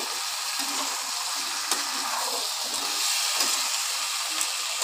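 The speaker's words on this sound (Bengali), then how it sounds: "এবার ভালোভাবে কষিয়ে নেব।" Kabuli chickpeas being sautéed in a hot pan, a soft continuous sizzle with occasional light scrapes and clicks of stirring, fairly faint and with no talking.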